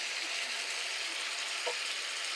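Chicken hitting a large hot wok, a soft steady sizzle with a faint clatter near the middle, fairly quiet and without voices.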